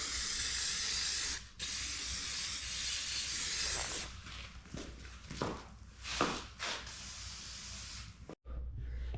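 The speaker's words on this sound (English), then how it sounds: "spraying brake clean is not a bad idea." Aerosol brake cleaner sprays in a long steady hiss, then in several short bursts with brief pauses, close by, rinsing a Honda CRF150R dirt bike's brakes indoors.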